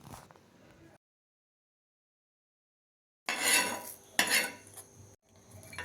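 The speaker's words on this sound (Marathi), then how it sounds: "लसणाचा गड्डा घेतलेला आहे, ते आपण व्यवस्थित भाजून घेऊया." A spatula stirs and scrapes whole spices, garlic and ginger in a pan while they roast for Kokani-style chicken, giving metallic clatter and rustling. A brief bit of scraping comes first, then silence, then louder bursts of clinking and scraping close by.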